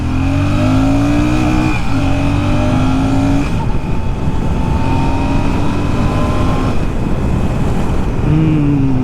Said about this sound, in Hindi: I am on the first gear, let's take a pull.